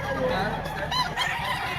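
Chickens at a Lipa Batangas poultry market cluck and squawk in short bursts over a busy, noisy background with people talking nearby.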